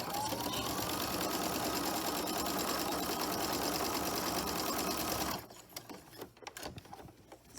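Close, steady whirring of a sewing machine top stitching a muslin herb sachet runs for about five seconds, then stops, leaving soft handling and rustling of fabric.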